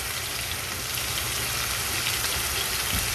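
Meat fries with garlic powder in a hot pan for Khua Mee, a dense, even sizzle heard close up and steady throughout, with a faint low rumble beneath and no talking.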